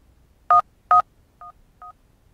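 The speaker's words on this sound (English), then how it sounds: "Let's dial that." Phone number being dialed in the game Duskwood: four short electronic keypad tones, two louder then two softer, evenly spaced with quiet gaps and no talking.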